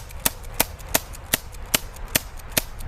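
Sharp shots from an EliteForce CQB airsoft revolver fire one at a time, seven cracks spaced about every 0.35 to 0.4 seconds, close and fairly loud over a low background hum.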